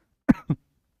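A short throat-clearing cough from someone with a throat problem, two quick close bursts, the first harsher and longer, then silence.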